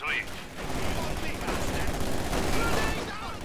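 Rapid machine gun fire from a World War II–era emplacement in the real-time strategy game Company of Heroes 2, a steady dense rattle with battle noise filling the whole stretch, continuous and fairly loud.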